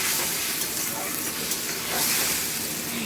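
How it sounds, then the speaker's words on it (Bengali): Spice masala for an egg curry fries in a pan, with a little water added, giving a continuous close sizzle and hiss while it is stirred and scraped. "ভালো করে আবার কষবো মশলাটা।"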